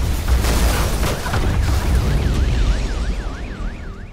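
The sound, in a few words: explosion in an abandoned building in a film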